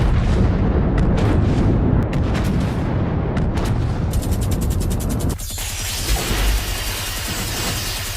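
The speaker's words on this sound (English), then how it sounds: "The warships begin firing their massive guns and captured maser cannons on Mechagodzilla" Warships fire massive guns and maser cannons at Mechagodzilla: a dense, continuous barrage of booming shots and mechanical clatter, loud throughout, turning into a harsher rapid buzzing crackle in the second half.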